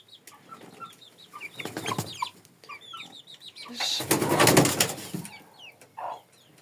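Hens and chicks cluck and chirp repeatedly in short calls on a farmstead, with a louder burst of scratchy noise midway; fairly close and moderately loud.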